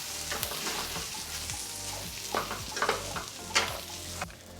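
Food fries in a pot while ghee rice is cooked, giving a continuous close sizzle with repeated scraping strokes of a stirring spoon and a few louder knocks against the pot, with no voices.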